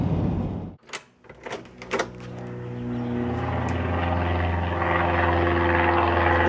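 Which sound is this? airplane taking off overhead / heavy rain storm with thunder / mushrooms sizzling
airplane taking off overhead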